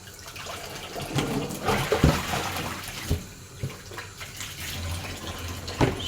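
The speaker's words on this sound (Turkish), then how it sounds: "Bakın duru su akıyor." Clear water running steadily, a continuous close splashing rush with small irregular gurgles and spatters throughout, no voices.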